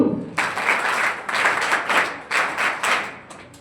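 Audience at a 12th-grade board exam awards ceremony breaks into applause, several bursts of dense, mid-sized clapping that swell and fade in quick waves.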